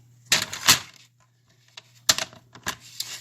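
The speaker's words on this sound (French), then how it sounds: "Je prends mon massicot." A paper trimmer cuts card stock for a candy box craft, giving a few sharp, close clicks and brief sliding scrapes in two bursts separated by a quiet pause.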